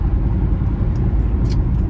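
Oklahoma City road traffic from inside a driving car, a loud constant low rumble of engine and tires with faint higher ticks near the end.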